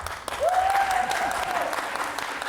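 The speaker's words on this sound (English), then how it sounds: "let's hold our applause till the end" Applause from the audience at a food waste thought leaders talk, a steady wash of clapping with a brief whistle-like tone riding over it early on.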